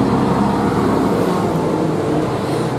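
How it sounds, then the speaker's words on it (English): Cars pass along a windy town street, a loud continuous roar of traffic mixed with heavy wind buffeting, close and steady throughout. "I don't even know if you can hear me or not because of the wind and the cars."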